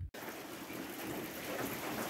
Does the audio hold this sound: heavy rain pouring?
yes